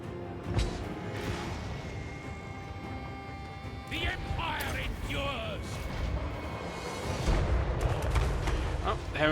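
A Hell cannon fires in a Warhammer strategy video game. Heavy booming shots and crashing impacts sound amid battle noise, while voices shout and talk over the din.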